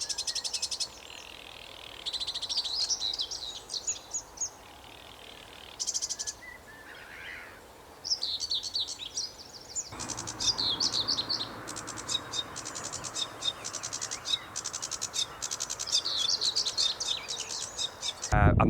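Whitethroat warbler giving scratchy, chattering song bursts outdoors among other bird calls and insect chirps, repeated phrases recurring through the clip at moderate distance.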